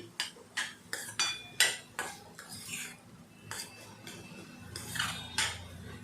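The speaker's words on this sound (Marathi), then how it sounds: "कारला सतत आपल्याला परतवत राहायचं आहे" A utensil stirs and sautés grated bitter gourd in a pan, making sharp metallic scrapes and clinks in a quick, irregular rhythm, close but fairly quiet, with no talking.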